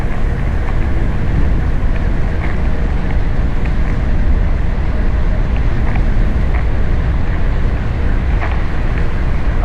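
Steady, loud wind roaring past a vehicle moving at speed along a road in Northern Shanxi, a dense continuous rush with low buffeting and no pauses.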